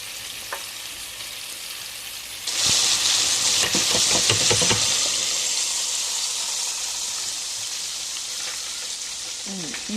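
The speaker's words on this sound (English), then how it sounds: "we're gonna fry this fish until golden brown" Sheepshead fish fries in oil: a quiet bubbling gives way to a sudden loud, steady hiss of sizzling as the fish goes in, with crackles and a few clatters, staying close and strong.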